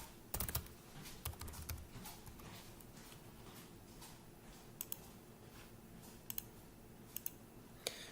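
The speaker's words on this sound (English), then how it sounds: "And if I type those correctly, it will sign up." Keys on a computer keyboard clatter in quick bursts of close, fairly quiet clicks, a few sharper taps standing out, with no speech.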